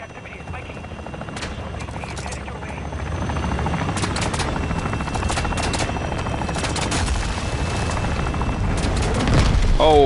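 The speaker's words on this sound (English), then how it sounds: "I blew up the helicopter." A helicopter's rotor hum runs throughout in a video game as bursts of gunfire and sharp impacts crackle over it, building toward a loud blast near the end as the helicopter is blown up.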